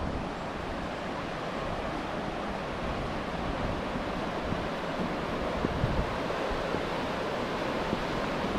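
The Fırtına stream rushes steadily and continuously, a loud broadband roar of mountain water with no pauses and no voices.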